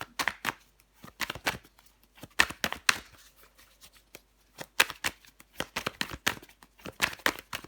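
Tarot cards are shuffled, flicked and laid down on a table in quick bursts of crisp papery snaps with short pauses between, close and fairly quiet.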